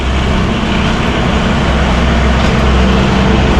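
The Shimla toy train rumbles into a tunnel, a loud, dense, unbroken roar of wheels and engine filling the whole stretch, close and enveloping.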